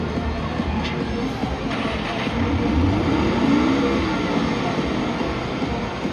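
A Porsche car accelerates past at night, a loud, close, broad engine and road rumble that swells in the middle and then eases slightly.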